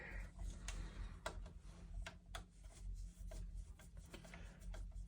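A screwdriver backing a screw out of a Cambridge Audio Topaz CD5 CD player, faint scraping rubs and small metallic clicks repeating in an irregular rhythm, close and quiet with no talk.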